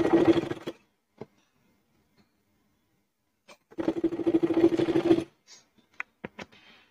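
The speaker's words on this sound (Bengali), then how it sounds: "তো চলো আমরা সেলাই করে নিই প্রথমে" A sewing machine stitches a fabric shopping bag in two short rapid bursts of whirring, separated by quiet pauses and followed by a few brief clicks and handling sounds, heard close up.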